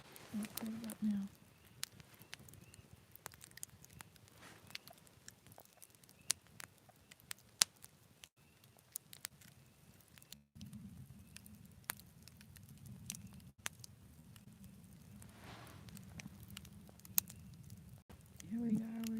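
A teepee-style campfire burns down outdoors, giving scattered sharp pops and crackles over a low steady rumble, with a faint muffled voice in places.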